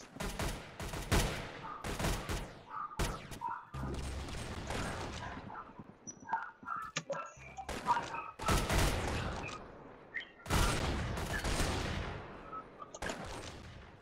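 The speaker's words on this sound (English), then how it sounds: "I'm shooting people that already left their spot like 10 seconds ago." Gunfire in the Roblox-style shooter Arsenal, with bursts of rapid shots and separate single cracks scattered across the stretch, fairly close and of uneven loudness, mixed with mechanical clicks and other game sounds.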